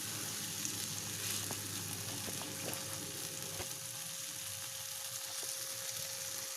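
Spice paste fries in a small amount of oil for a meat curry, giving a steady close sizzle with a few faint clicks and taps from stirring, and no voices.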